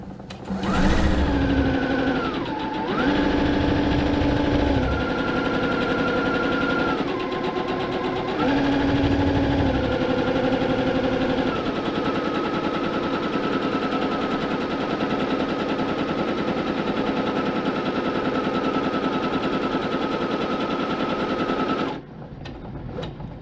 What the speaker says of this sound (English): go ahead and sew along the long one.